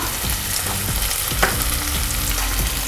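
Onions sautéing in a pan for a fish and seafood dish, a continuous loud, close frying hiss with faint stirring knocks and no voices.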